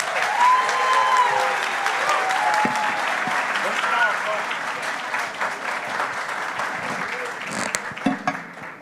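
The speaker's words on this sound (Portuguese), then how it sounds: "Uma salva de palmas bem forte, pessoal" Sustained clapping from a crowd at a debate at a congress, loud at first and gradually thinning, with a few scattered claps near the end.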